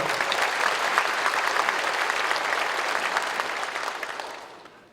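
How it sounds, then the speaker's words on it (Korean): A church congregation at a Korean War veterans' prayer service bursts into full, dense applause that holds steady and loud, then starts to fade in the final second. "큰 박수로 맞아주시기 바랍니다."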